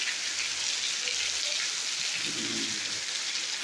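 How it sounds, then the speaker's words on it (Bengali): Steady rainfall hisses across a surface in a continuous, even wash, close and fairly loud with no voices. "এই যে দেখুন বৃষ্টিটা হচ্ছে দেখুন"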